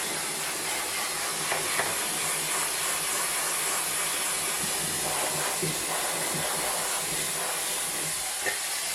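A handheld hair dryer runs without its nozzle, giving a soft, diffuse airflow while gently drying hair. It makes a steady broadband hiss at an even level throughout, with a few faint handling bumps.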